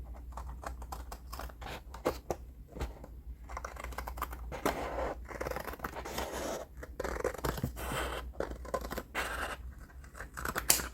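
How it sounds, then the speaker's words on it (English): Scissors cutting through a cardstock flap, quick close snips and crisp scraping cuts repeating in an uneven rhythm over a quiet background with no voice. "I'm going to cut off this flap here."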